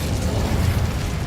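The Incendio fire spell cast in Hogwarts Legacy: a loud, broad roaring whoosh of flame that stays even and dense for just over a second, with low rumbling weight underneath.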